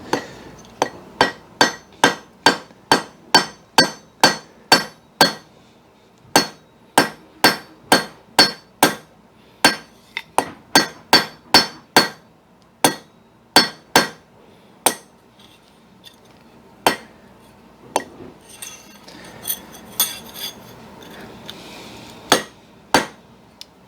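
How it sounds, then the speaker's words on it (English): A hammer sets rivets in square steel stock, ringing out in a long series of sharp, close metallic strikes at a steady rhythm that slows and thins toward the end, with no talking. "I'm going to go ahead and set a couple rivets in the square stock"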